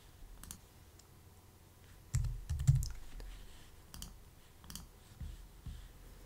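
Someone types credit card details on a computer keyboard: quiet, close clicks in short bursts, with a few heavier key presses and uneven pauses between them, and no talking.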